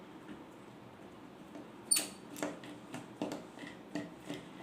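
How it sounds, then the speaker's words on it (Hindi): A Phillips screwdriver loosens a bolt on a forklift electrical contactor, giving a string of soft scraping, rasping turns with one sharper metallic click near the start. The sounds are close and quiet, with no voices. "तो हम लोग प्लस स्क्रू ड्राइवर को यूज करेंगे और फटाफट खोलेंगे।"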